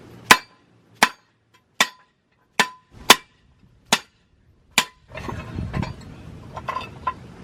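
Metal is hammered flat during fabrication of a drift angle steering kit: seven sharp, ringing blows spaced about a second apart, followed by scraping and shuffling metal handling noises with a few lighter clinks.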